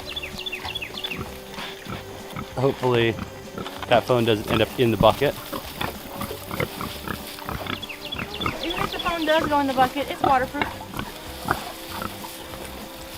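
Pigs grunt intermittently in a farm pen, low snorting sounds mixed under a man's fairly loud, continuous talking.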